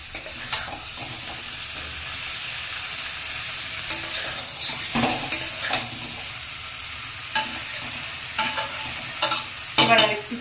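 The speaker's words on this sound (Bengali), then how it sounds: "এবার এতে দিয়ে দেব ঝিঙ্গেগুলো। ঝিঙ্গেগুলো দিয়ে আবার ভালো করে কষে নেব।" Ridge gourd, potatoes and spices stir-fry in a pan with a constant close sizzle, while a spatula scrapes through the mix in irregular strokes and no one speaks.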